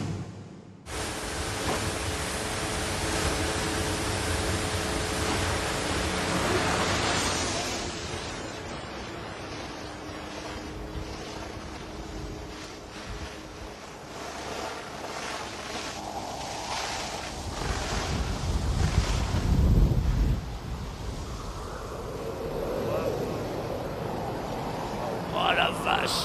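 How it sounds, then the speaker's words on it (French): Huge Hawaiian surf waves crash and rumble with heavy wind buffeting the microphone, a continuous roaring wash that swells and surges, with voices talking over it. "Il affronte les plus grandes vagues du monde sur une toute petite planche."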